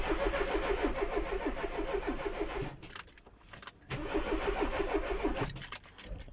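A car engine idles roughly after an idle valve and TPS reset, running unevenly with a pulsing mid-pitched drone that drops out briefly twice before catching again, heard close.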